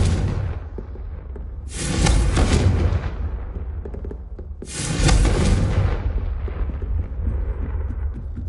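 Two loud Confringo explosion spells in Hogwarts Legacy, each a heavy booming blast that decays slowly, the second following a few seconds after the first, with no talk.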